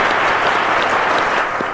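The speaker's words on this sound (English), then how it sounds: "Ladies and gentlemen," A studio audience at a televised secondary-school mathematics quiz final applauds steadily, a dense, continuous wash of many hands clapping at close range, loud and even throughout with no talking over it.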